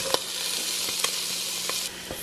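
Ground beef and diced onion sizzle steadily in a pan, browning for a cabbage stew, with a few sharp utensil taps over the constant frying hiss.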